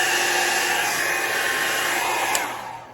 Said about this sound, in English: it's just kind of hard to yell over top of this dryer